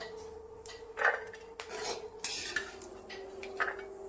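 Cashews being stirred in ghee in a kadhai and lifted out, with a metal spoon scraping and clinking against the pan in several short strokes over a faint, steady hum, no talking.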